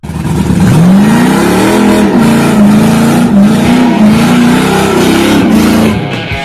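A 1998 Volvo V90 wagon with a swapped-in LS V8 revs hard and holds a loud, steady, rumbling drone for several seconds close by, easing off at the end.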